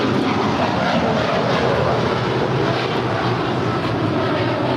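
A heavy jet airliner takes off from runway 25 Right at LAX, producing a steady, loud, broadband engine roar that holds evenly throughout without any speech.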